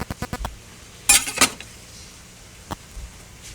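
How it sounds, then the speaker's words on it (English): The back of a knife scrapes the thin skin off a parsnip, a series of quick light taps and short rasping strokes with small clinks, close and clear with pauses between. "you can actually use the back of a knife to scrape the skin off"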